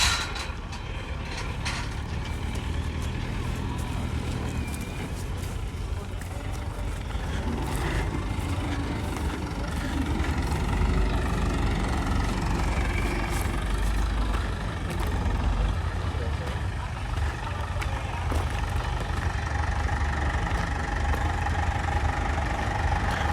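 Tractor engines idle at a car show, a steady low mechanical rumble that holds at moderate loudness throughout with faint background activity.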